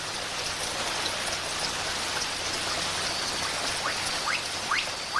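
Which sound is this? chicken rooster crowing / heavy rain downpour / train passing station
heavy rain downpour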